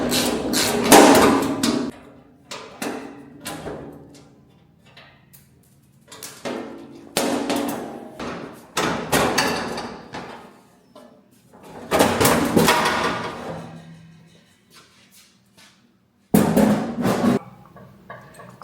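A wrench works a 7/16 nut at the back of a DR RapidFire wood splitter, giving close, loud bursts of metallic rattling in several clusters separated by quiet pauses.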